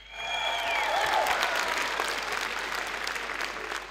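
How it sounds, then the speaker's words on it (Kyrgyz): A studio audience at a comedy show's season opening breaks into steady, full applause that holds evenly throughout, with a faint tone sounding briefly near the start. "кол чабуулар."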